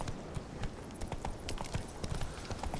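A horse's hooves clip-clop steadily in the video game The Witcher 3: Wild Hunt. The footfalls are rhythmic and fairly faint, and faint ambient game sound runs beneath them, with no speech.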